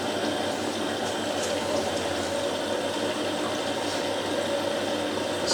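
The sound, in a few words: Hotpoint 9530 washing machine running the main wash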